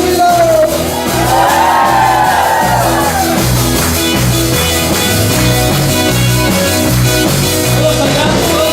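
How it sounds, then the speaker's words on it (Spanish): A church congregation lets out a loud, sustained shout of joy over rhythmic worship music, with whoops and cheering voices swelling together and continuing throughout. "Cuando puedan dar un grito de júbilo."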